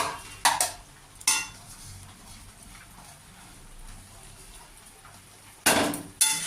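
Banana flower curry with prawns being stirred in a pan, a low quiet sizzle with a few sharp loud scraping and clattering strokes of the spoon near the start and end.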